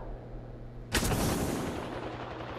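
A single loud burst of Apex Legends gunfire cracks out close by after a quiet hum, its echo tailing off over the next second and a half.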